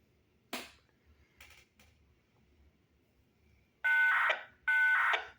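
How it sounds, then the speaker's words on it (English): Fire alarm tones for St. Charles Parish come over a radio scanner, with a few brief static bursts followed by two loud, nearly one-second electronic tone blasts close together near the end. "St. Charles Parish fire alarm."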